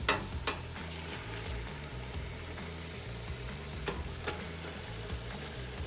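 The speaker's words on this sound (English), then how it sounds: "Just throw your fish in the pot." Fish, including branzino, whiting and mackerel, cooking in a pot of fish soup base, giving a steady close sizzling bubble with a few sharp clinks and knocks near the start and midway.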